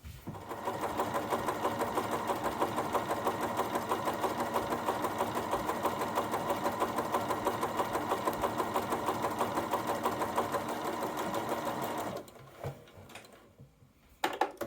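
A sewing machine stitches a pair of pants in a steady, rapid mechanical whirr for about twelve seconds, close and clear, then stops, leaving a few faint handling clicks.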